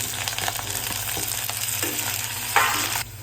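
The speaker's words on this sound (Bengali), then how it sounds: "তো দেখো এই যে আলুটা আমি একটু ভেজে নিয়েছি" Potatoes fry in a pan with browned chopped garlic and cumin, giving a steady close sizzle with light crackles and a brief scrape as they are stirred.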